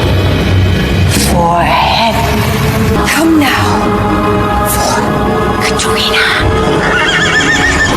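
The headless horseman's horse from Sleepy Hollow gives several loud, shrill neighs and whinnies in a dark, dramatic scene, set against continuous rumbling background sound.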